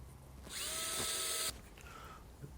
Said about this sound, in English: we're just going to drill those extra couple of holes and put another couple long screws in there